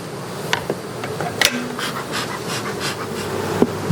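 Honey bees buzz steadily while being brushed off two-day-old queen cells in a hive, a continuous close hum with a few brief sharper ticks and brushing sounds and no talking.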